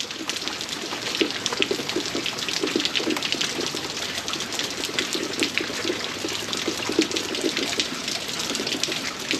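Heavy rain pours down over a vegetable garden during a day of more than four inches of rainfall, a loud, continuous rushing hiss of water with dense patter throughout.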